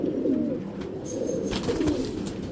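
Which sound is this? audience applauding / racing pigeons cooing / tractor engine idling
racing pigeons cooing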